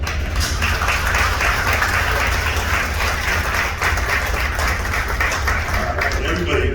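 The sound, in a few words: audience applause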